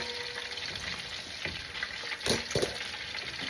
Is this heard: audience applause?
no